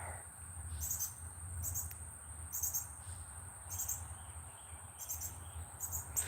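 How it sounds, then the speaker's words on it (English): A bird calls overhead in a wild nature setting, short bright calls repeating roughly every second over a steady chorus of insects and a soft low rumble, with no one speaking. "It's a bird right over my head now."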